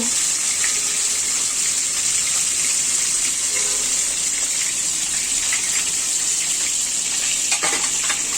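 Rohu fish sizzles in hot oil in a well-heated pot, a steady, dense crackling hiss that stays loud and continuous throughout, with no talking.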